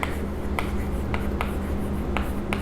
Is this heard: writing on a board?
yes